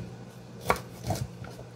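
Broccoli being chopped with a knife on a board for a keto scallops and broccoli rice meal, a single sharp cut followed by a couple of softer, quieter chops, close up with no talking.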